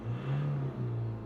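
Ford Transit TDCi 2012 diesel engine with a smoky exhaust fault revving briefly, a low steady hum rising and dipping in two short pushes, close and fairly quiet.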